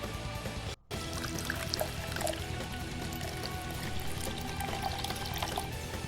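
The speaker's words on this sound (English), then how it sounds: "Alright, my test alert works." A stream alert chime plays as a steady, continuous liquid-pouring sound, like water filling a glass, lasting several seconds with a brief dropout near the start and faint game audio underneath.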